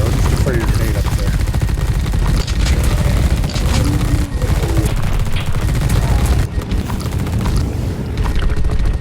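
Grenade launcher fire and combat in the sci-fi tactical game The Red Solstice, loud dense rattling gunfire and booming impacts layered continuously with no pause.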